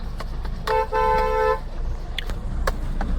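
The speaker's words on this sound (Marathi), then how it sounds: "हॉर्न तर आपण मारलाय." Car horn honks twice in quick succession, a short toot followed by a longer blast, loud and close over faint outdoor background noise with a few distant clicks.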